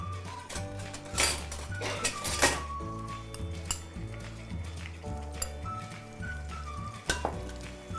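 Spices for channa masala are sautéed in a pan, with turmeric and chili powder stirred through: a spoon scrapes and clinks against the metal over a soft sizzle, with several sharp knocks and steady stirring.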